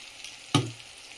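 Ground spices, coriander powder among them, dropped into hot oil for a meat curry, a single sharp burst of sizzle that quickly fades against a low hiss.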